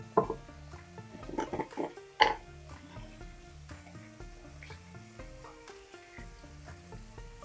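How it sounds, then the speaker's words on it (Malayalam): Chopped potatoes go into a pan for a potato curry and fry, with a sizzle rising after a few stirring scrapes early on, then settling into a steady, fairly quiet frying hiss with music-like tonal background. "ഇനി ഇതിനകത്ത് നമ്മൾ അരിഞ്ഞു വെച്ചേക്കുന്ന കിഴങ്ങില്ലേ അതിട്ട് കൊടുക്കാം."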